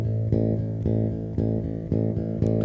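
Fingerstyle bass guitar line where the middle finger strikes harder than the index, giving a repeating uneven pattern of deep plucked notes with alternating stronger attacks, played alone and close.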